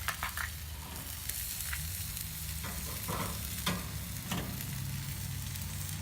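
A top sirloin with its fat cap sizzles on a grill in a steady, moderate crackle, with small pops and occasional spits of rendering fat, and no voices.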